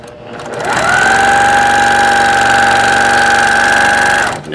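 A semi-industrial home sewing machine fitted with an industrial quick-change presser foot adapter runs at a steady, loud, fast hum for about four seconds, then stops, with no talking.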